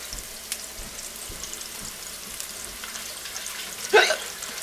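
Faint, steady sizzling of meatballs frying in a pan, a low crackling hiss throughout with a brief louder burst near the end.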